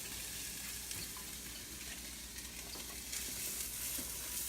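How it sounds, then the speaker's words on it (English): Garlic and onion sauté in olive oil in a family skillet, a steady soft sizzle with occasional stirring scrapes, close and fairly quiet, with no talking. "we're going to saute this"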